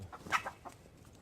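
A few short clucks from a chicken close by, quick and slightly uneven, then quiet.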